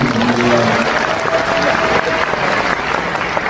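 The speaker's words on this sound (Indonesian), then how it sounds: "Jadi kan tepuk tangan" An audience at an Islamic religious lecture in Korea breaks into sustained applause, a dense, fairly loud wash of clapping with a few voices rising briefly at the start.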